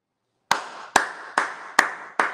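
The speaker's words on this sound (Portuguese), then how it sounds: "Vamos bater palma!" Hands clap five times in a slow, even rhythm, each clap crisp, close and moderately loud, with no voices and a short stretch of silence before the first one.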